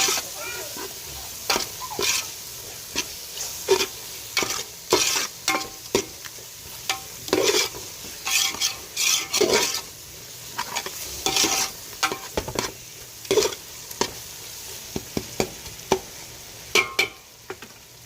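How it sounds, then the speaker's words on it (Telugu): Curry with coriander and mint being stirred in a pan during wedding meal cooking, with repeated spoon scrapes and clanks over a soft steady sizzle, close and intermittent throughout. "కొత్తిమీర, పుదీనా వేసుకున్న తర్వాత బాగా అడుగంట వేయకుండా మొత్తం కలిపి వేసుకోవాలి"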